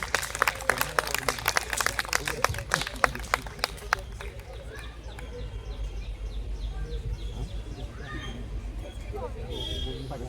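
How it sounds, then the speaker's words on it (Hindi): An audience claps at a large Hindu gathering, a sharp, rhythmic burst of many hands for about four seconds that fades into crowd murmur, with people talking and faint bird chirps in the background. "एक बार जोरदार ताली पीयूष शर्मा जी के लिए, जोरदार तालियां हो जाए।"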